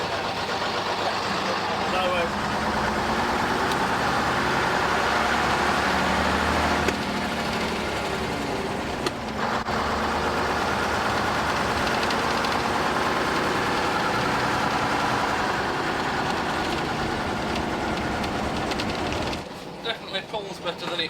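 AEC Routemaster London bus engine on a road test, a steady, loud diesel drone running continuously with people talking over it.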